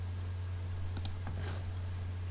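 A computer mouse clicks while working in Adobe Photoshop CC 2017, a few light, close clicks spaced apart over a steady low electrical hum.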